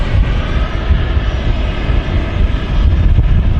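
An airliner takes off down the runway at Manchester Airport, a loud, close, continuous engine roar that stays full and surging for the whole few seconds, with gusty outdoor air around it.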